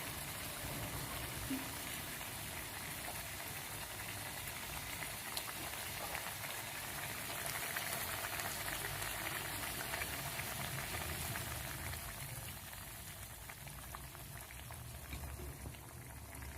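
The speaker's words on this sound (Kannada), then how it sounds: "ನೋಡಿರಿ ಇದು ಮಸ್ತ್ ಕುದಿಯಾಗ ಹೊಂಟೈತಿ." A pot of mushroom curry at a rolling boil on a gas stove, a steady dense bubbling and hissing that runs without pause, soft and close.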